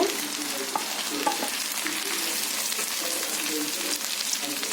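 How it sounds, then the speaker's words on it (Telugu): Ivy gourd pieces fry in a hot pan for a simple curry, a steady dense sizzle with scraping stir strokes and clinks of a spoon against the pan, close and continuous with no talk. "దొండకాయ ముక్కలు వేసుకొని కలుపుకుందాము"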